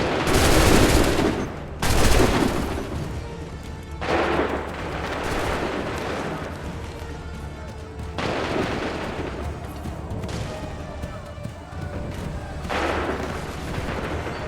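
Musket volleys in Assassin's Creed III: a series of loud, crackling massed gunfire bursts spaced a couple of seconds apart, each trailing into rumbling echo and battlefield din.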